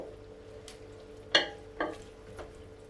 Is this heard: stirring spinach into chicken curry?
yes